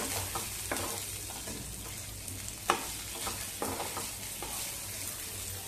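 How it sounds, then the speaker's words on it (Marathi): Raisins, cashews, almond slivers and charoli fry in ghee with a steady, quiet sizzle, broken by occasional clicks and scrapes of stirring. "आधी चांगलं सगळं ते तुपावरती परतून घेऊया."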